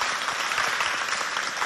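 Brief, steady burst of audience applause at a school prize ceremony, dense clapping from a crowd heard alone without talk.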